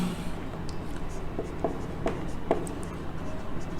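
Pen writing notes on paper, faint scratchy strokes in a quiet room with a low background hum, a few distinct pen ticks in the middle.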